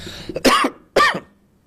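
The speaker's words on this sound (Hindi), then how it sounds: "थोड़ी सी खांसी है, बेयर विद मी" Two sharp, loud coughs close to the mic, about half a second apart, with a faint breath before them.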